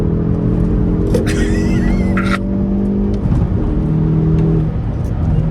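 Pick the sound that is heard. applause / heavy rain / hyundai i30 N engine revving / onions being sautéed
hyundai i30 N engine revving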